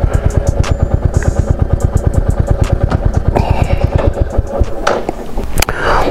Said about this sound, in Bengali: তো এখানে বাইকটা পার্ক করে দিচ্ছি।